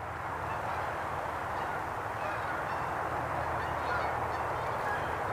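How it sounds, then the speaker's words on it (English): Geese honking as they fly over a field along a trail, a steady chorus heard from a distance and blended with constant hum of passing car traffic. "Here's some geese."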